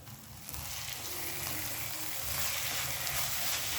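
Shredded cabbage filling with chopped coriander and sugar sizzles steadily in a hot pan while being stirred, a continuous close frying hiss with soft scraping throughout.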